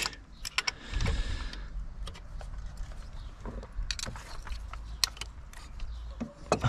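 Glow plug being unscrewed by hand on a Renault Clio III 1.5 dCi diesel engine, with faint metallic ratcheting clicks and small tool taps near and quiet, over light workshop background.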